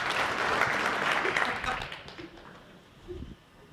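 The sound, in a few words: audience applause at lecture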